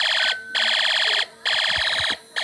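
A Snap Circuits fire alarm sounds a loud, shrill electronic tone in three repeated bursts separated by short gaps, with faint handling noise in between.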